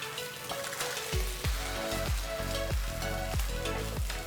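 Onions and ginger-garlic paste sizzle loudly in a pan for dal makhani, with a steady frying hiss and a regular rhythm of stirring scrapes close by.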